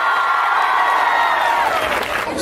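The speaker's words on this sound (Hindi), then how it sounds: "आप सबके लिए एक बार ताली बजाने की आवश्यकता है" An audience at a student felicitation road show applauds loudly with steady clapping and some cheering for a couple of seconds.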